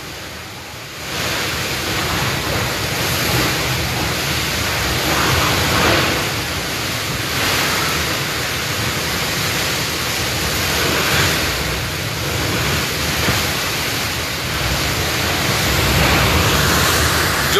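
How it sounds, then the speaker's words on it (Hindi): Cyclone Fani's landfall winds at Puri, Odisha roar as a steady, loud, broadband rush, continuous and unbroken throughout, with no voices over it. "हवा आसपास 300 से ज्यादा चल रहा है अभी।"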